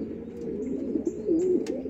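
Spanish Pouter pigeons at a pigeon show coo in a continuous low, rolling murmur, close and steady, with faint higher chirps and taps layered above.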